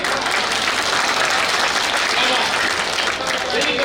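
Guests at a Buddhist wedding clap in a continuous, loud, dense wash of applause that stays steady throughout, with voices mixed into the crowd noise.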